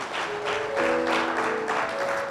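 Church congregation applause rolls on in uneven waves while sustained keyboard-like tones hold underneath, the clapping moderately loud and continuous.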